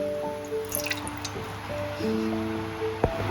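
Oil and ghee go into a hot pressure cooker on a stove, giving quick drips and wet sizzling squishes with a small clink near the end, close and fairly quiet, no talking.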